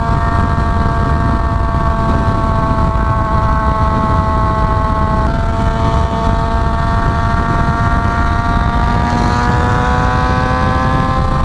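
A Yamaha FZ6R motorcycle with a timing advance mod, loud and close, its engine droning at a high, steady pitch that climbs and dips as it accelerates through the gears, heavy wind rumble underneath.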